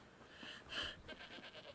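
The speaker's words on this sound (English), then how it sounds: "Goat." Goat bleating in a video game, a few short wavering bleats close and clear over a soft ambient background.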